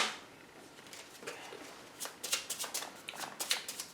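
A deck of board game cards from a Middara campaign being riffle-shuffled, producing a rapid series of crisp flutters and snaps that grow louder and close toward the end.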